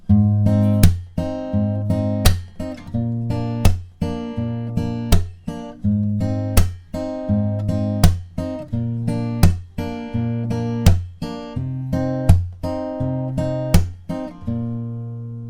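An acoustic guitar picks a steady arpeggiated pattern, each pluck ringing into the next in an even rhythm, close and solo, ending on a fading note.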